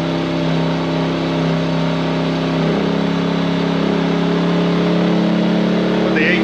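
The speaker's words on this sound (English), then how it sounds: "That generator's just throttled up" An Engel generator set running steadily and throttling up, a loud continuous engine drone with a strong hum that rises slightly in pitch and intensity toward the end, with no talk over it.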